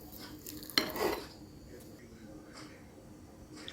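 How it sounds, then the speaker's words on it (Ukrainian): A minced meat mixture seasoned with black pepper and salt is stirred in a bowl, with one sharp utensil clink against the bowl and then soft scraping and mixing in a quiet kitchen. "Все ретельно перемішуємо до однородної маси"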